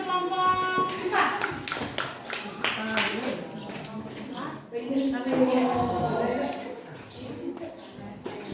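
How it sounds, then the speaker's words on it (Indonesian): A classroom of students claps for a presenting group, with dense rhythmic clapping at first, then children's chatter and voices rising as the applause tapers off. "Oke, tepuk tangan buat kelompok 4."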